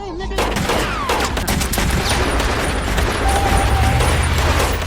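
Rapid bursts of automatic gunfire fill an action film gunfight, dense volleys of shots crackling continuously and loudly at close range with booming low rumble underneath.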